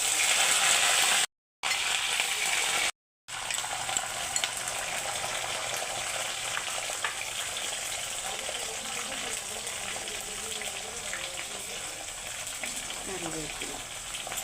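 Green chilies frying in oil for a vaduka puli pickle make a steady, close sizzle with soft crackling, cut by two brief silent gaps near the start, while a voice speaks over it.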